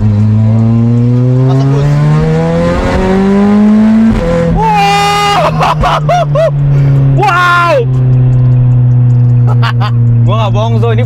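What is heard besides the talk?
VW Scirocco R AWD car accelerating at half throttle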